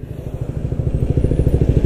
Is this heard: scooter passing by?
yes